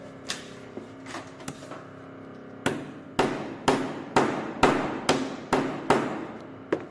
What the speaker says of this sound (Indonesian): kita palu dia.